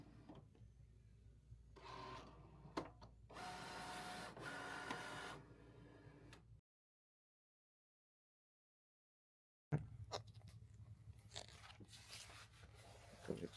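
A Cricut Explorer 4 cuts a sticker sheet with whirring, scraping carriage passes, soft and nearby, broken by a stretch of total silence before the motor noise resumes in shorter bursts.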